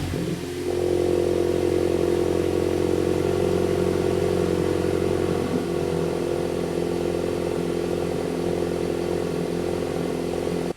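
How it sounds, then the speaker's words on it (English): A VW MK8 GTI with an AWE Touring exhaust fires up with a brief crank and flare, then settles into a steady, fairly tame idle drone heard close and alone for several seconds. "Now it's time to start it up, see what it sounds like."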